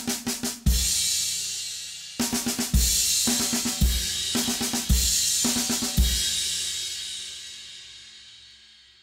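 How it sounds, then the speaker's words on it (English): Drum kit in a rudiment demonstration: five clustered double strokes on a snare drum, each group closed by a loud crash cymbal hit whose bright wash rings and slowly decays, repeated several times, close and alone. "we're going to play 1, 2, 3, 4 on the snare, and number 5 will be the crash."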